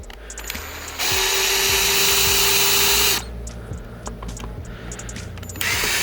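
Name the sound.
power drill removing screws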